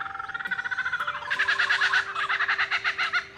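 A lyrebird mimics a kookaburra's call, a loud, close run of rapid rising and falling chuckling notes that builds into a pulsing laugh-like rhythm and then breaks off.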